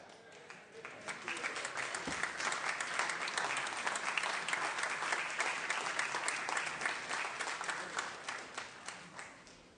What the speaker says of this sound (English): Teresa Acuna, a round of applause, please.